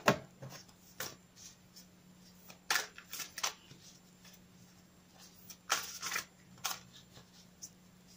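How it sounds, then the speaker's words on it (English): Soft, intermittent papery riffling and tapping of oracle cards being shuffled, in short bursts with pauses, close and quiet. "I'll shuffle them again for you on camera"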